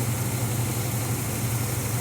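A 1987 Cadillac Fleetwood Brougham with a replacement 307 Oldsmobile engine idles steadily, a low, even rumble with a strong bass hum and no exhaust system, close by and continuous with no talking.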